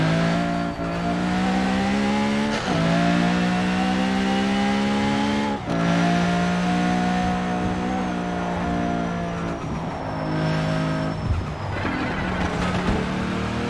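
Simulated car in Forza Horizon 4, driven with a Logitech G923 wheel, holds a loud steady engine drone that climbs and drops with gear shifts and revving, with a brief screech near the end and no talk over it.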